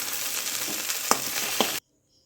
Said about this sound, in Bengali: ভেন্ডিগুলো হালকা করে ভেজে নিয়েছি, এবার তুলে নিচ্ছি